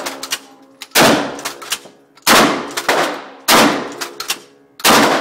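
A Kel-Tec KSG pump shotgun fires buckshot at a range: four loud, booming blasts about 1.3 seconds apart, each with a heavy bassy report and ringing decay, and quieter clacks of the pump action between shots.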